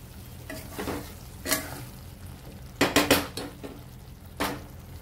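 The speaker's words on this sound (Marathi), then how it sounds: "तर सर्विंग बाउल मध्ये आपण काढून घेऊया." Cooked eggplant bharit is spooned from the pan into a serving bowl, giving a few sharp metal spoon scrapes and clinks against cookware, with a cluster of quick knocks in the middle. No one speaks.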